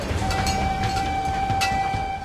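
A railway train on the Great Plains passes steadily nearby, a continuous rumble with a sustained whistle-like tone running through it.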